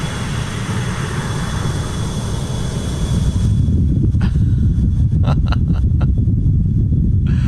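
A Leonardo MD80 jet engine in Microsoft Flight Simulator roars as a broad, steady rumble with a thin whine, joined partway through by irregular clicks and knocks over the continuous drone; no one speaks.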